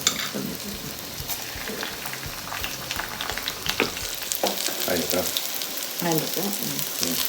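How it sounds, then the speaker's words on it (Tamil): Chana dal, urad dal, cashews and curry leaves fry in hot oil for coconut rice, making a loud, dense crackling sizzle. Spatula stirs occasionally and faint voices murmur in the background. "கடலைப்பருப்பு, உளுத்தம்பருப்பு, முந்திரி பருப்பு அது வச்சுருக்கேன் இல்லையா, இது போடணும். அப்புறம் கருவேப்பிலை இது போடணும்"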